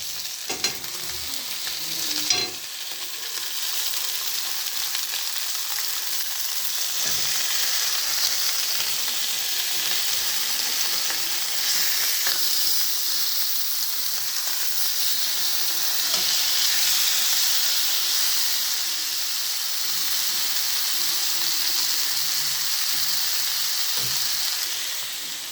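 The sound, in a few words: pork chop meat frying in a pan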